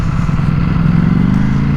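A Ducati Panigale V4S ridden on damp ground, its engine a loud, steady, close rumble with a slight pulsing throb and no talk over it.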